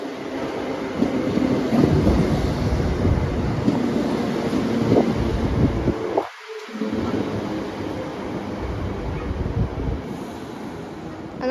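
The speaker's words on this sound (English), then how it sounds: "here comes the last train of the day, and it's a 318" A Class 318 electric train arrives at Paisley Gilmour Street station, a loud, steady rumble and rush with windy buffeting that continues throughout, with one brief dip partway through.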